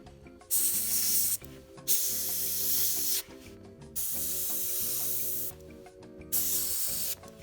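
Airbrush spraying paint onto a 28mm A15 Crusader model tank in four steady hissing bursts of a second or two each, separated by short pauses, close and fairly loud over a faint steady tone.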